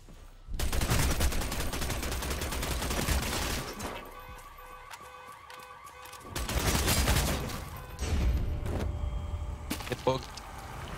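Rapid bursts of gunfire rattle out in the vampire battle royale Vampire: The Masquerade - Bloodhunt, with long sustained volleys broken by brief lulls and scattered single shots, while players chatter underneath.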